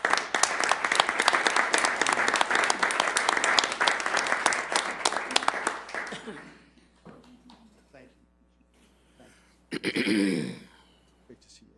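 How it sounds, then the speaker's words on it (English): An audience at a city council meeting gives a round of applause, loud dense clapping for about six seconds that then fades, followed by quieter room sounds, a throat clearing and nearby talk. "Can we give them a round of applause,"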